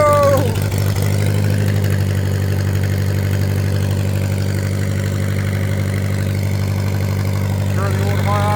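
A 1965 Lincoln's engine, just started in 15° cold, idles steadily and loudly throughout with a deep, even rumble and a slight rise in revs at the start.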